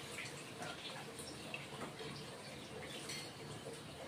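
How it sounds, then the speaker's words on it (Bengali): A little water is poured into a bowl during home cooking of a vegetarian potato and paneer curry, giving a soft, steady trickle and light splashing that runs throughout, with faint dish clatter in the background. "বাটিতে লেগে আছে, অল্প জল দিয়ে দিচ্ছি।"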